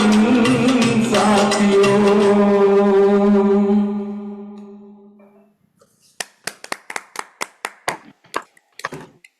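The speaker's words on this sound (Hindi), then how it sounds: "बिना कहे ताली बजती है तो समझ जाना भजन जबरदस्त हुआ है" A sustained sung and instrumental bhajan note in a devotional gathering fades out, then after a short pause a small audience breaks into sharp, close, irregular handclaps for several seconds.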